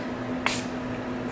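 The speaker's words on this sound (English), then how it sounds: "I'm just gonna spray it behind." A single quick hiss of a saline spray bottle, one short pump against a quiet background hum.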